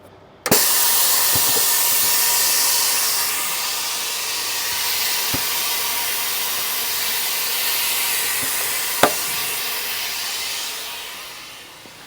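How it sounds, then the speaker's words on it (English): Air suspension on a hay-hauling semi truck raising its lift axle, a loud steady air hiss that starts abruptly, holds for about ten seconds with a few clicks, then fades. "Let's just lift the axle."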